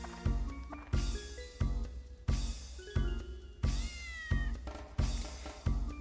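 A cat in the Dark Cloud video game meows repeatedly, about eight short, clear meows in a steady rhythm, loud and close, with game sounds faintly underneath and no talking.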